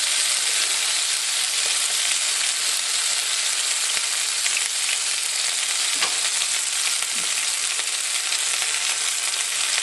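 Anchovies and garlic fry in a pan with a constant, bright, hissing sizzle that holds steady for about ten seconds, close and fairly loud, with a couple of faint clinks.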